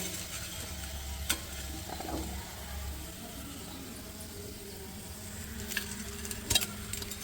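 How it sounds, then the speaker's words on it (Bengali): Fingers frying in a pan of oil make a soft, faint sizzle, with a low rumble early on and a few scattered ticks and scrapes near the end. "এইবার দুটো ফিঙ্গার ভাজবো"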